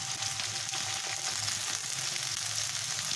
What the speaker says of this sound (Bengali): আমি প্রথমে পেঁয়াজগুলোকে বেরেস্তা করে নেব